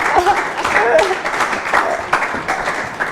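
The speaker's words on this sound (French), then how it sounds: "On applaudit pour madame." A studio audience claps for a woman on a French-language talk show, a dense, steady burst of applause lasting a few seconds, with voices talking over it.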